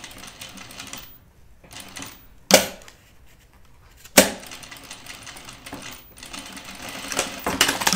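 Sewing machine stitching a small fabric guinea pig toy, a close buzzing run of stitches that stops and restarts, with a couple of sharp clunks between bursts and no talking.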